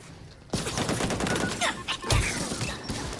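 Video game gunfire and a grenade blast ring out together, a dense close burst of shots starting abruptly and continuing through, with a heavy explosion thump midway.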